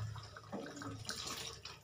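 A little water is poured into a kofta gravy in a pan, a brief soft splash and trickle heard up close with no speech.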